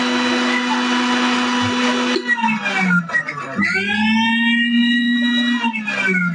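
An electric blender grinds soaked cashews into a paste for shahi paneer, a loud, close, steady whine that briefly drops in pitch and bogs down before spinning back up to a strained high hum.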